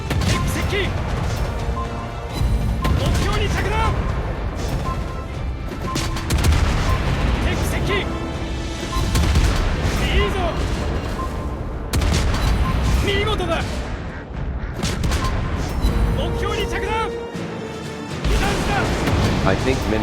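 Naval guns fire high-explosive shells in the mobile warship game World of Warships Blitz, with repeated heavy booms and crashes over a dense game soundscape, while a person talks throughout.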